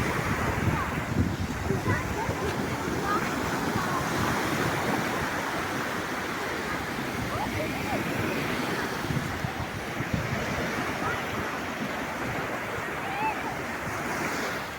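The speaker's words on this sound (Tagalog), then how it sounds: "sarap ng hangin guys ay alon ang balod mabalod ang dagat" Ocean waves rolling in along the seashore under strong wind, a constant loud wash of surf and gusty wind rumble close to the microphone for the whole stretch, with no clear talk.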